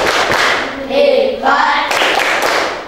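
A classroom of children clapping together in a loud, sustained burst of hand claps, with young voices chattering and calling out over the applause.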